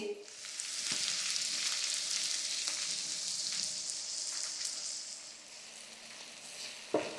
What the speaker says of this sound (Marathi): मस्त असे पनीर मी फ्राय करून घेतले आहेत